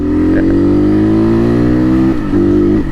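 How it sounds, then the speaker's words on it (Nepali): A loud RM250 motorcycle engine holds a steady, rising rev up close, dips briefly, then roars again. "यो बाइकको साउन्ड ठुलो छ यार"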